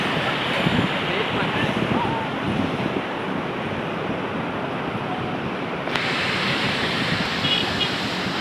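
Large waves roll in at Manila Bay's dolomite beach after a storm, a loud continuous wash of surf with wind noise buffeting the microphone.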